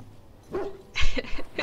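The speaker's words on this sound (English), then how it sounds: "Hello, doggy." A dog in Dragon Age: Origins gives a couple of short, close barks and yips, brief and fairly loud bursts in quick succession.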